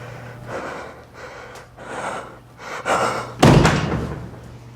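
Gasp sound effects and a sharp slam, edited in for a dentist-themed clip: a few breathy gasps and snorts in rhythmic bursts, then one loud, close thud-like slam near the end, with no speech.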